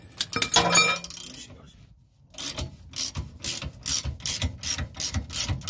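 A ratchet fitted with an extension bar loosens the tight rear spring bolts on a Transit camper van, giving rapid, close metallic clicking in bursts after a brief pause.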